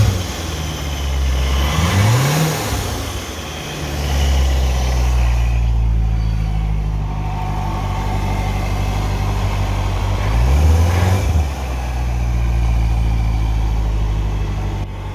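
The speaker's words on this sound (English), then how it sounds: "Just going to rev it up a little bit." A car engine idles after a cold start and is blipped twice, each rev rising sharply and falling back to a steady, loud idle rumble with no talking.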